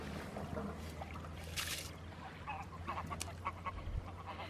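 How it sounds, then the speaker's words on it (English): Geese honk a few times at a beach, faint and distant over steady wind and surf noise, with brief bursts rising toward the end. "The geese."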